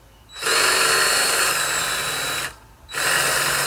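Loud whining power drill bores steadily through a boat trailer's bunk cradle for about two seconds, stops briefly, then starts again, close up and alone.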